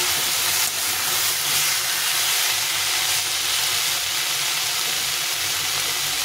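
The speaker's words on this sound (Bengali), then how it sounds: "এই মশলা দিয়ে একটু কষিয়ে নিতে হবে ভালো করে" Masala spices sizzle and hiss loudly and steadily in a pan while being sautéed for a bitter gourd and fish curry with potatoes, without a break.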